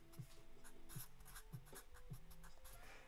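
A pen or pencil writes race results by hand on paper, four quick scratchy strokes in a steady rhythm, close and fairly quiet, with no voices.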